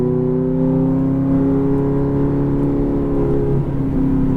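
A Ferrari F430 accelerating on a racetrack, its engine holding a loud, steady, tonal roar heard from inside the car with a slight pitch shift near the end.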